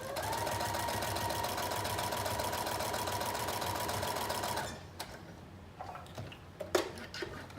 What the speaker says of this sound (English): we are going to machine stitch a long stitch and stop at the notches on both sides